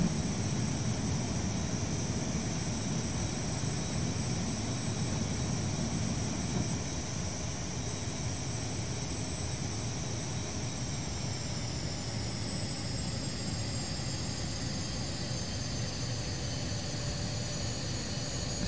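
A BAE146-300 airliner on final approach in a flight simulator game gives a steady, even jet-engine drone with high whining tones that shift slightly partway through, with no voices over it.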